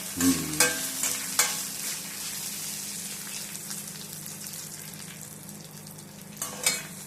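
Curry leaves and ginger sauté in a hot kadai, with a steady hissing sizzle and a few sharp spoon clatters at the start and near the end. It is close and evenly loud, with no talking.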